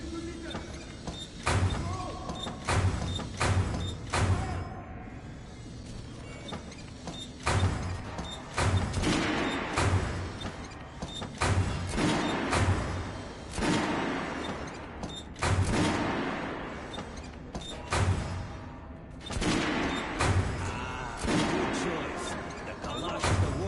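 Weapons test-fired on a shooting range in Metro Last Light Redux: loud, sharp gunshots crack out one after another at irregular intervals over a continuous rumbling background.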